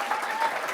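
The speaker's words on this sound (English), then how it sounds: "Totally accept that applause" A theatre audience at a prison arts performance event applauds in a dense, steady wash of clapping that holds evenly throughout.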